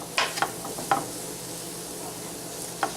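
Broccoli and cilantro sizzling in a hot pan while being stirred for a stuffed portobello mushroom dish, with a steady frying hiss broken by a few sharp scrapes and clinks of a utensil against the pan.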